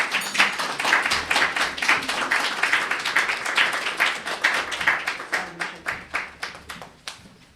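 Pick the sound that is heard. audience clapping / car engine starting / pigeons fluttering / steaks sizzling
audience clapping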